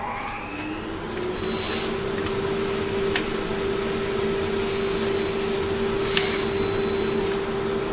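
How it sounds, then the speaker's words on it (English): A dust extractor spins up in a woodturning workshop, its motor quickly settling into a steady loud whine and airy rush, with a couple of brief knocks. "Whack the extractor on, Joe, please."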